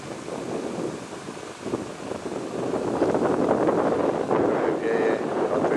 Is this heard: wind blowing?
yes